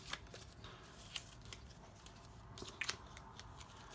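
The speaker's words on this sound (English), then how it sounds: "just letting my scissors find that edge and then follow it down" Quiet, close snips and crisp rasping of scissors cutting through card, in short irregular bursts.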